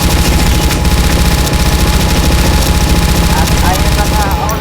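Rapid continuous gunfire roars loud and dense in a zombie shooting video game, bursts layered over each other with no pauses.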